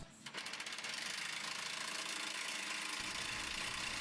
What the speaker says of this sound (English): we need to tighten all of the bolts to the mounting brackets, including the U-bolts that we just put on